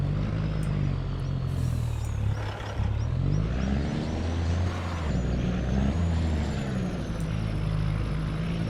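A heavy truck engine in Farming Simulator 25 drives steadily under load, its low drone dropping and rising as the manual gearbox shifts, with a couple of pitch changes and a brief hiss partway through.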